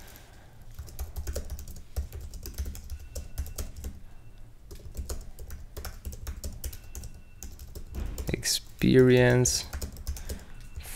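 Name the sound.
typing on a computer keyboard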